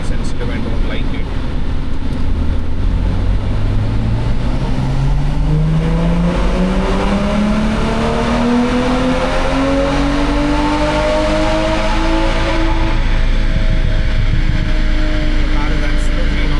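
A tuned BMW M340i Stage 2 with exhaust modifications revs on a dyno. Its loud engine note climbs slowly and steadily in pitch through a long pull over a constant mechanical roar.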